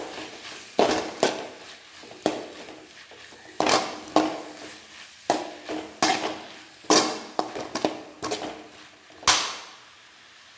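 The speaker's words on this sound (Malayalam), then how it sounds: "മഞ്ഞൾപ്പൊടി ഇട്ടിട്ട് നന്നായിട്ടൊന്ന് വഴറ്റണം" A spatula clatters repeatedly against a pan as chicken roast masala with turmeric powder is sautéed, sharp metallic knocks spaced irregularly over a quiet background.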